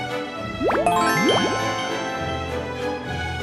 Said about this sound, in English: It is a bell.